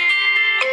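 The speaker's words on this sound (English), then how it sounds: "my phone decided to ring" A mobile phone ringtone sounds briefly and loudly, a bright tonal chime pulsing a few times close by, with no talk over it.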